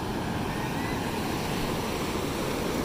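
Ocean waves washing in at El Salvador, a steady broadband rush of surf and water that stays loud and unbroken throughout, with no voices.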